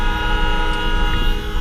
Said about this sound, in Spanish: Y es heavy como tocan la bocina.